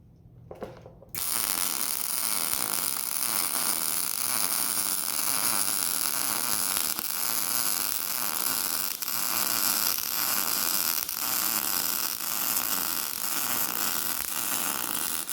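Welder tacking a reinforcement plate onto a Cadillac lower A-arm mount, a steady loud crackling, buzzing arc after a quiet start, running continuously with slight flickers, no voices.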